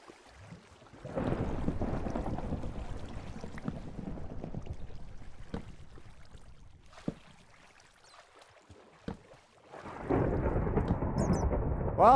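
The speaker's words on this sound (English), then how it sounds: "Well, it's thundering." Deep rolling thunder from a storm in Minecraft, heard while deep underground in a cave: two long low rumbles, the first swelling and fading over several seconds, the second building loud near the end, with faint clicks between.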